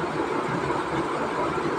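A train pulls into a station with a steady, moderately loud rumble of rolling wagons and faint wheel clatter, with no voices over it.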